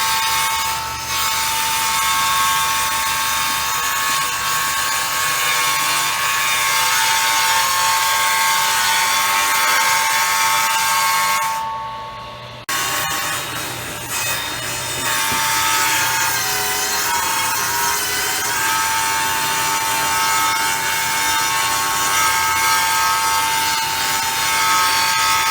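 A saw cuts steadily through wood with the fence set at 45 degrees to the blade, a loud, continuous buzzing rasp that lasts nearly the whole time, with one brief dip partway through before the cutting resumes.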